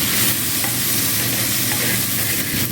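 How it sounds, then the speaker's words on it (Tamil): Okra sizzles steadily as it is stir-fried with rock salt in a pan, a continuous close crackle with faint scraping stirs and no voices. "இதையும் சேர்த்து நல்லா வதக்கிடுங்க"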